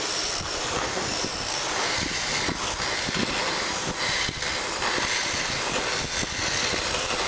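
A sander runs continuously against a drinking gourd, giving a steady loud motorized whir with gritty rubbing and small irregular scuffs throughout, close by and with no talking.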